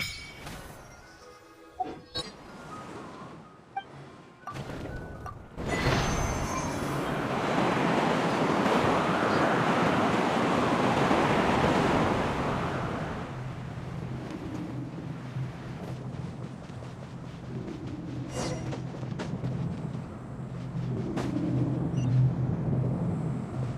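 A wind current in the game Genshin Impact rises as a broad, rushing whoosh of air that swells after a short quiet stretch, holds for several seconds, then settles into a softer airy hiss with low hum underneath.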